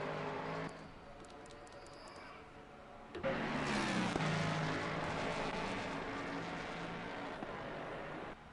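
Race car engine from Assetto Corsa Competizione droning steadily, then surging louder at about three seconds into a sustained high-rev roar with shifting pitch, close and continuous with no talking.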